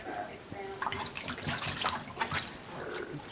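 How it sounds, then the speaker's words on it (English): A baby of about three and a half months splashes in bathwater, with small irregular splashes and water movement close by, while an adult and someone talk softly throughout. "You like to splash a lot."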